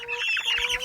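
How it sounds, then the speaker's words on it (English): New chickens on their first night squawk and cluck faintly and briefly, a short burst of bird calls close by. "This is the first night with the new chickens."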